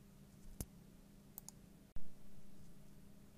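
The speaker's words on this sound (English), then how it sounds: "We just simply hit the download button to download the zip file." A computer mouse clicks the download button, giving two faint, sharp clicks about a second apart over quiet room hum, followed by a soft thump.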